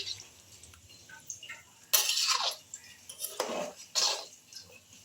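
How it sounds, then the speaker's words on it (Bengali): A spoon stirs and scrapes around a metal pot of chicken curry with water, giving several short clinking, scraping bursts at close range between quiet pauses. "দেখো খুব ভালো করে জল দিয়ে আমি চিকেনটাকে এবার নাড়াচাড়া করে দিচ্ছি।"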